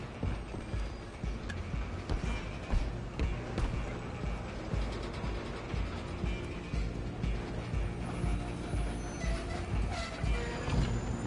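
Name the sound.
train in motion, from the film Wild Wild West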